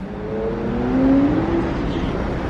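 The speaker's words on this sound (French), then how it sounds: "On entend vraiment de loin celle-ci. Ces pots d'échappement là qui ne passent pas inaperçus dans Monaco." A Ferrari F8 Tributo roars through the streets of Monaco, its exhaust a loud, steady engine note that climbs slightly in pitch before easing off, with no voices over it.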